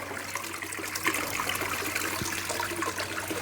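Water is emptied out of a garden fish pond, a steady pouring and trickling wash that runs without a break and stays fairly close and moderately loud throughout.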